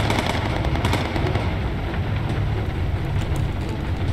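Rapid, continuous machine-gun fire from a bomber's guns in the Bomber Crew game, a dense unbroken rattle that stays loud throughout, with no speech over it.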